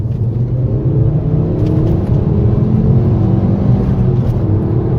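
Ford Focus ST-3 mk2.5 hatchback with a 225 horsepower engine pulling hard in second gear, a loud, steady engine roar and rumble heard from inside the car, building continuously with no talking.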